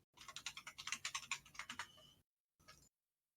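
Rapid clacking keystrokes on a loud computer keyboard, a quick burst of close, crisp clicks that stops, followed by a brief second flurry.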